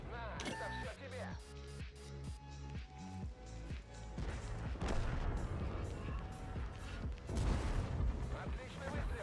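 A tank cannon fires in a tank video game, a heavy booming blast rising out of a busy mix of game effects and tonal sounds, with a voice speaking in the background.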